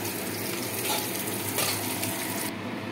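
Pieces of catla fish frying in hot oil for a tel jhal curry give off a steady, close, dense sizzle and crackle that runs unbroken for the whole stretch, with no voices over it.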